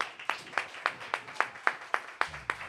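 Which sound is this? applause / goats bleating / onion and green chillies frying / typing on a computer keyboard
applause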